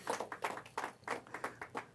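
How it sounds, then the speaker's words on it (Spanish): Church congregation clapping together in a steady, rhythmic beat, moderately faint, with about eight to ten evenly spaced claps and no talk. "Denle un aplauso al Señor"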